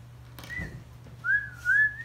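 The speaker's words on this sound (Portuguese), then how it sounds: "Quem assobia a primeira" A person whistles in a playful whistling contest, giving a short faint note followed by a longer wavering tone that breaks into two close bursts.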